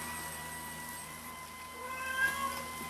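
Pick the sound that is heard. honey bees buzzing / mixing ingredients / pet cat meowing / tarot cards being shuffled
pet cat meowing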